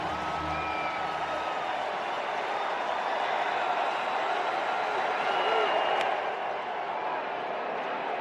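A crowd at right field cheers during a Cincinnati Reds at Chicago White Sox baseball game, a steady broad roar that fills the whole stretch and swells slightly toward the end.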